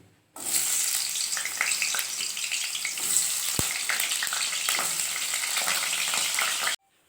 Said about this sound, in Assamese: আলুটো অলপমান ফ্ৰাই কৰি লওঁ।